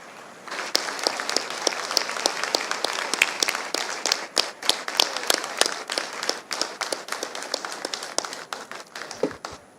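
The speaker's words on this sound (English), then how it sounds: "A resounding warm round of applause." Sustained, loud applause from a large audience at the closing ceremony of the Intra-African Trade Fair in Algiers, greeting a leader with dense, steady clapping that holds for nearly ten seconds.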